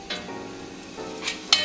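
Garlic sizzling in a hot pan with stirring, a steady soft fry punctuated by a few brighter scrapes or spatters near the end, no talk.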